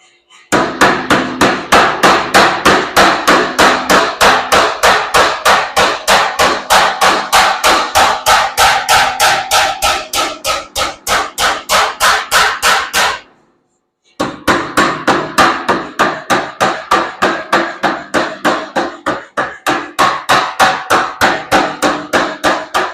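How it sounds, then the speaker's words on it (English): Heavy, evenly spaced hammer blows on a hot forge-welded steel billet being drawn out, a long run of loud sharp strikes at a fast steady rhythm, one brief pause, then the pounding resumes. "So I'll show some more drawing this out, getting it to the right length"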